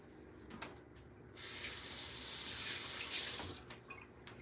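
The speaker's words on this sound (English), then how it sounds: "I'm going to rinse my hands real quick." Hands being rinsed under a running kitchen tap, a steady close rush of water that starts abruptly, holds for about two seconds and then cuts off, with quieter kitchen noise around it.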